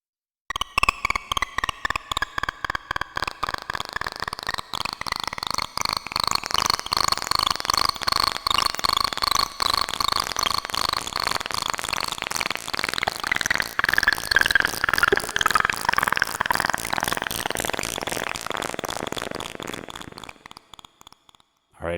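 Pulsar synthesis in Ableton Live with random stereo panning: a rapid train of short, evenly spaced pulses with a buzzing, formant-like tone, running steadily for about twenty seconds before stopping abruptly.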